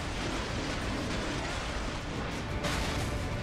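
In Metal Gear Rising Revengeance, an explosion leaves a dense, loud roar of broadband noise that fills the whole stretch, with a brief surge near the end and no talk.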